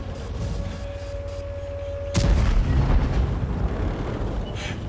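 A tank cannon fires in a tank battle video game, one sudden heavy boom that cuts through steady engine and battlefield rumble and then fades into a long rolling tail.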